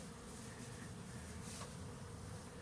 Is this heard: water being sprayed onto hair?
no